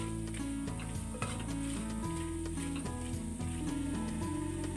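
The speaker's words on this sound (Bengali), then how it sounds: "গ্যাস কমিয়ে ভাজতে হবে এটা মশলাটা, মানে মশলাটা পুড়ে যাবে।" Spices sizzling and frying in a pan for Bengali vegetable khichuri, a close steady sizzle with repeated scraping stirs of a utensil and a ringing metallic tone, no talk.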